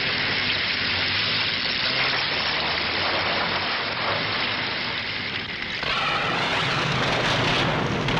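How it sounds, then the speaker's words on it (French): An artificial thunderstorm in a science-fiction TV episode: heavy rain pours steadily with low rumbling thunder, loud and continuous, swelling briefly near the end. "Croyez-moi, ce n'est pas un orage naturel."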